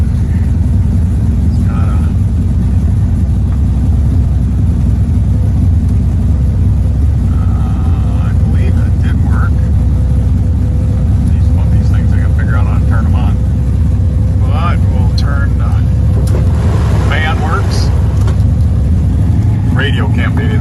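A 1967 Chevrolet Chevelle SS with a 427 engine idles just under 1,000 RPM, a loud, steady low rumble filling the whole stretch, with people talking over it.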